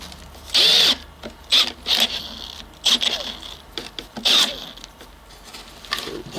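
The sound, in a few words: Makita XPH07 drill boring with a 1-inch auger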